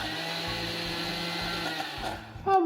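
A blender whirs steadily with a pulsing motor hum while blending dairy-free ice cream ingredients, then the pitch shifts and strains briefly near the end as the blender gets stuck.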